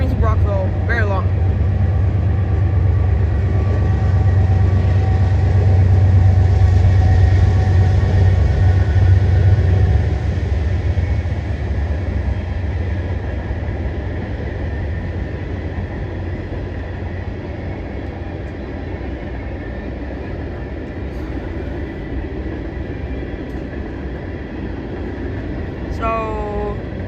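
A very long freight train rolls past a youth baseball diamond in Brockville, a steady broadband rumble and rattle of wagons continuing unbroken for the whole stretch, loud and close, with faint distant voices in the background.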